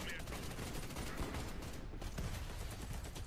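Rapid gunfire in the Warface shooter game, continuous bursts of automatic fire crackling in a dense, unbroken stream, fairly faint and steady throughout.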